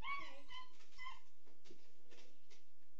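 Dogs whimpering close to the microphone in a stable area, with a few high, wavering whines early on, then softer snuffles and shuffling against a quiet background hum.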